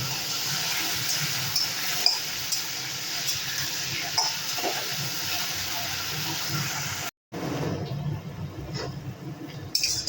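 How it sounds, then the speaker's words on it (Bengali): Taro leaves tossed in a pan with chickpeas and green chilli, giving a steady soft sizzle and hiss with occasional stirring scrapes, broken by a brief silent gap near the end. "এখন ভালো করে কচুর শাকটা কিন্তু ছোলা আর কাঁচা লঙ্কার সঙ্গে নেড়ে চেড়ে ভেজে সুন্দর করে রান্না করে নেব।"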